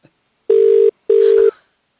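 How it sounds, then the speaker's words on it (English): Two electronic ringback tones sound on an outgoing telephone call, each a steady buzzing burst under a second long with a short gap between, clear and close with no talk over them. "It says ringing Jamie, stage five clear"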